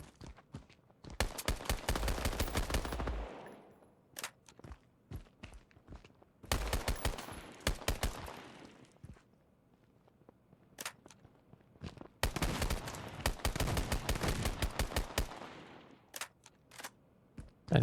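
Clusters of sharp gunfire in the shooter game DeaDrop, including pistol shots, arriving in three dense volleys separated by scattered single cracks and quieter gaps.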